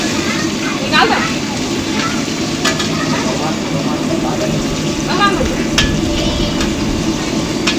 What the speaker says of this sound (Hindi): पूड़ियाँ बन रही है